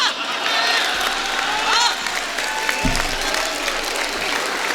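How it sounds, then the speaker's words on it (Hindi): Audience applause at a Kavi Sammelan poetry gathering in Palwal, a steady crowd clapping with scattered cheers filling the whole stretch, loud and continuous. "एक साथ तालियां बजाना उस कवि के खाते में।"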